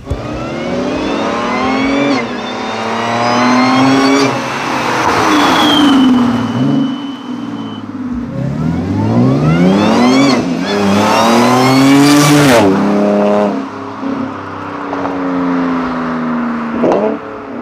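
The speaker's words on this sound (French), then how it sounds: "le bruit d'un compresseur V6, c'est waouh" A supercharged V6 car engine accelerates hard through repeated gear changes, each rising whine climbing in pitch before dropping, loud and close, with a brief tire squeal and a high supercharger whine.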